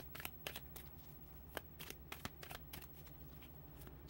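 Tarot cards are shuffled in a quiet room, with soft, close, irregular slaps and riffles repeating steadily for several seconds.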